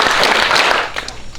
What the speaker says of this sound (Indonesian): Oke, 3 tepukan.